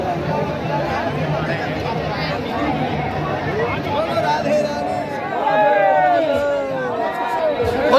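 A dense crowd packed together at the 2024 Lathmar Holi celebration in Barsana, heard as steady loud babble of many overlapping voices with shouts rising above, constant throughout and swelling slightly toward the end.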